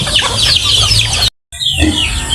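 Several native chickens cluck and chatter close by in a busy, overlapping flock in the countryside, with a brief dropout to silence partway through.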